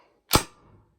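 M-4 carbine air gun fired once over a chronograph from a high-pressure tank, giving a single sharp, loud crack with a brief fading tail, close and alone with no talking.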